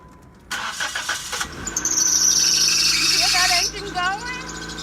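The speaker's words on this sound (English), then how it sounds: "I'm gonna go ahead and start it so you guys can see what the engine sounds like" Sports car engine cranking and catching, a starter whir followed by a loud rising engine roar that settles into an idle, close by, with voices in the background.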